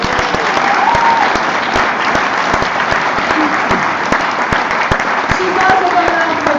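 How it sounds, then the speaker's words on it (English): A school exhibition audience gives a loud, sustained round of applause for a teacher, many hands clapping densely and evenly throughout, with faint voices and cheers mixed underneath. "So give her a big round of applause."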